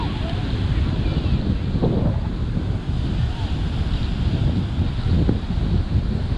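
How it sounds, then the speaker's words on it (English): Strong wind buffets the microphone on a beach, a constant loud rushing roar mixed with breaking surf, with no letup throughout. "Too windy."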